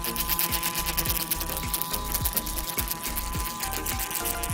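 Dr.Pen M8 auto microneedling pen running steadily, a fast mechanical buzzing hum with a rapid rhythmic ticking, close and constant throughout with no talk.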